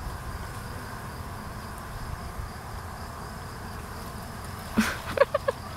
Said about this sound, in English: 2 pounds of bees.